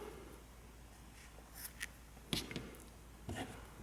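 Small scissors snip through a tail of crochet yarn, making a couple of quiet, crisp cuts with a faint rustle of handling in between, close by and otherwise near silent.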